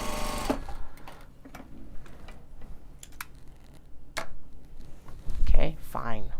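A sewing machine stitches Japanese fabric with its top tension newly tightened, giving a quick mechanical ticking and whirring in short runs, close and fairly loud, with brief voice sounds and handling noises between the runs.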